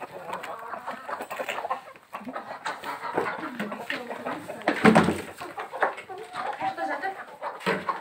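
A hen clucks repeatedly in low, throaty bursts close by, with soft rustling and a few other animal noises in between.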